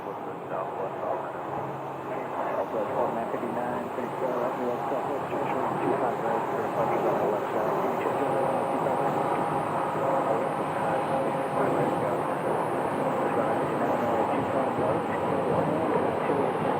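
An Epic E1000 single-engine turboprop at Sky Harbor airport gives a steady broadband engine roar that holds throughout, with a person talking over it.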